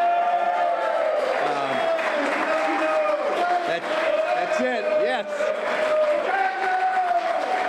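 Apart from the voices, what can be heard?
crowd cheering for two departing workers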